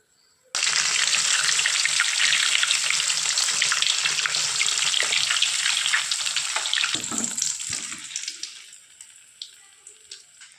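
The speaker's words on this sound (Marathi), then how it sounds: "आता बाकीचे सुद्धा अशाच प्रकारे आपल्याला तळून घ्यायचे आहे" Bread pakoda deep-frying in hot oil: a sudden loud, dense crackling sizzle starts almost at once, holds steady, then gradually fades and thins to scattered pops near the end, with no speech.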